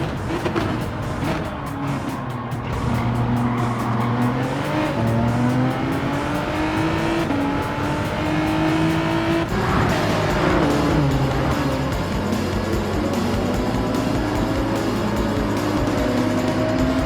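Race cars, including a Porsche, battle in the Gran Turismo 7 video game, producing a loud, continuous engine howl that climbs and drops in pitch through gear changes, with a steady roar underneath and no speech.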